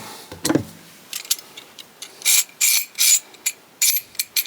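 Knipex or Hazet pliers wrench mechanism clicking and catching as the jaws are worked, giving a series of sharp, close ratchet-like clicks in uneven bursts, loud and with no voices.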